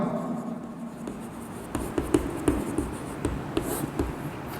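Chalk or marker writing on a board during a chemistry lecture, with a run of short scratchy strokes and taps, close and fairly quiet, no talking.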